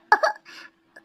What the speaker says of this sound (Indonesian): Aku juga batuk